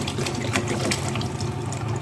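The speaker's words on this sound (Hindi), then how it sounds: "यहाँ पे मैं पानी डाल दूँगी तकरीबन 3 गिलास के करीब" About three glasses of water are poured into a pot of mutton for Afghani Kabuli pulao, making a steady, close, continuous splashing rush with no break and no talk.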